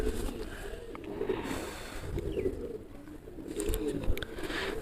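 Tournament pigeons coo repeatedly while being hand-fed, soft low murmuring calls recurring every second or so, close by, with faint handling rustles and no talk.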